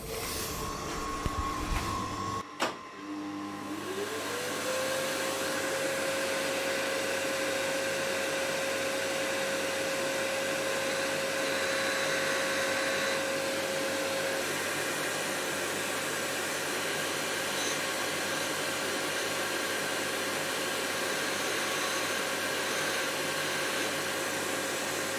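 A grinder spins up after a brief clatter and grinds a cutting insert on a cutting wheel, settling into a steady high whine with continuous abrasive hiss throughout.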